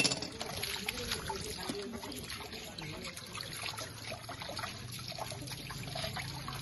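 Water running from a tap, a continuous trickling splash at moderate distance with people talking over it.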